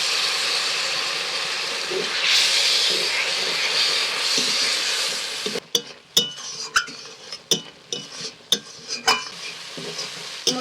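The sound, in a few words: spices frying in pan as water is added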